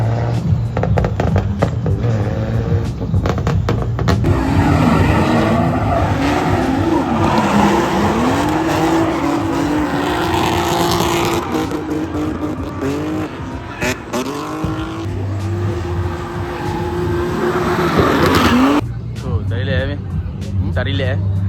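A car drifting at an autoshow, engine revving hard with long, wavering tire squeals and skids, loud and close, while people talk and shout over it.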